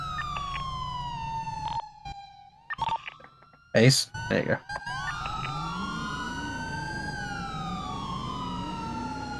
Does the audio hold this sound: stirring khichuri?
no